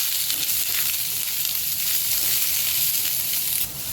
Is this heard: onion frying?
yes